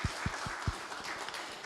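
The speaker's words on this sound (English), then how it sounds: "can we have a round of applause for their continued support?" Audience applause at an evening event in a beer emporium venue, a short burst of steady clapping with a few close, heavy claps up front over a wash of crowd clapping.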